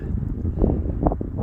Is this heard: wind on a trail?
yes